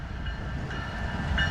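A huge eastbound CSX intermodal freight train powered by locomotives 714, 515 and 3095 at Deshler, a steady close rumble with rail noise and a faint high whine.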